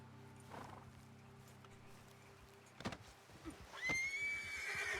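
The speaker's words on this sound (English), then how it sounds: "I wish this horse was better because it's so pretty." A horse in the RedM western roleplay game gives a rising whinny near the end, preceded by a few thuds and a soft hum, fairly close and moderately loud.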